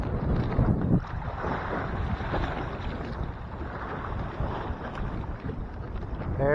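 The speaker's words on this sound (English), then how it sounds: "very windy." Strong gusty wind on San Francisco Bay buffets the microphone with a steady roar on a fishing outing, and a boat engine and water lap faintly underneath throughout.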